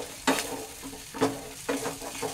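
Beaten egg fries and is scrambled in a pan for egg tadka dal, giving a steady sizzle broken by a few sharp scraping stirs at regular intervals, close and moderately loud with no talking.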